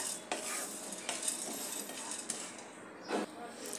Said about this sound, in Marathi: आपले मगजबीजही तडकू लागलेले आहेत